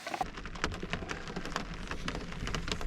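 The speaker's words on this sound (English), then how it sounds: "the rain's actually picking up a little bit" Steady winter rain pattering on a surface, with scattered louder drops tapping throughout; no voices, just the continuous wash of rainfall.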